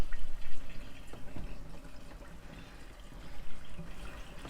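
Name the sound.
water pouring from jerry can into RV water tank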